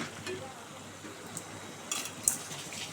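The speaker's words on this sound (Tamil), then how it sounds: "கொஞ்சம் இஞ்சி பூண்டு பேஸ்ட்டு போட்டு தக்காளி போட்டு நல்லா வதக்கிட்டு உப்பு போட்டு வதக்குவோம்" Tomatoes with ginger garlic paste sautéing in a pan, giving a soft steady sizzle with occasional clinks and scrapes of a utensil against the pan. Faint background noise runs underneath.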